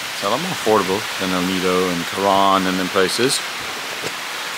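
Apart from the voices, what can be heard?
heavy rain falling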